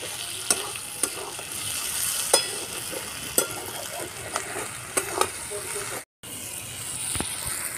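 Curry with fish oil fries over low heat in a wok, a continuous soft sizzle broken by repeated sharp scrapes and clanks of a spatula stirring, with a brief dropout near the end.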